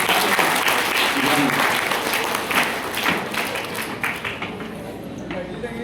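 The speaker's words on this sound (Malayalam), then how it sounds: "രണ്ടുപേർക്ക് നല്ലൊരു കയ്യടി ആവട്ടെ." Audience applause for two people at an indoor seminar, a dense, steady wash of clapping lasting several seconds and slowly thinning toward the end.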